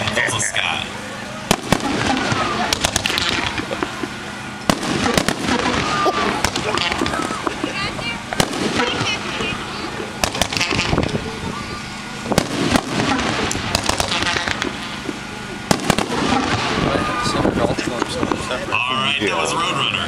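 Winda Roadrunner fireworks cake firing at a 2012 NFA demo: a steady barrage of sharp pops and crackling bursts fills the whole stretch, loud and continuous, with crowd voices underneath.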